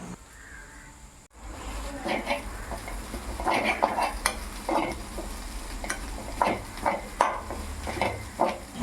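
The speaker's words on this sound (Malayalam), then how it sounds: "കറിവേപ്പിലയും ചേർത്ത് ഇളക്കി കൊടുക്കുക" A beetroot stir-fry with curry leaves is stirred in a pan, with repeated scraping and clinking of a utensil against the metal over a light sizzle, and crows cawing in the background.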